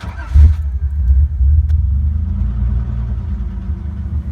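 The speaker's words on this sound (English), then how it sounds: "it has a little lifter tap whenever it first fires up" A car engine idles with a steady low rumble right after a cold start, with a slight lifter tap, close by, with no talking.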